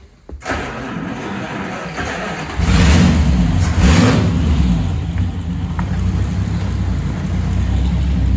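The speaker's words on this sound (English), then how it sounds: "I'm gonna start the car." A 1937 Cord 812 car engine cranks and catches, then settles into a loud, steady running rumble with a rev rise around the middle, close and alone with no talk.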